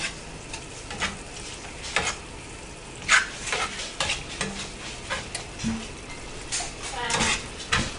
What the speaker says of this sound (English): I'll stir it all in